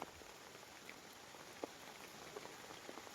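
Rain falls steadily during a flood in Upper Kuttanad, a soft, even hiss of drops with a few sharper taps, faint and continuous with no voices.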